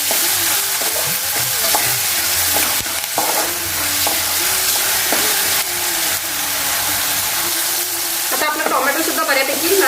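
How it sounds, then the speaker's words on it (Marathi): Chopped tomatoes and salt sauté in a hot pan for an Agri Koli style baby prawn curry, a steady loud sizzle with occasional scraping stirs running the whole time. "आपण हे सर्व परतून घेणार आहोत"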